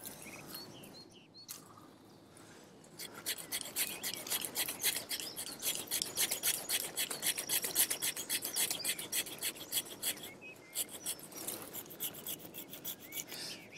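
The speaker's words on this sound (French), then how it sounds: "Je fais très attention à pas trop appuyer sur ma scie en fin de parcours pour ne pas blesser" A pruning saw rasps back and forth through an olive tree branch, steady repeated strokes close by after a quiet opening, easing briefly near the end before resuming.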